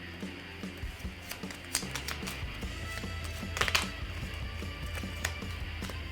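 Board game cards for Run Fight or Die Reloaded are shuffled by hand on a tabletop, giving quiet, irregular clicks and flutters with a few sharper slaps as cards are gathered up.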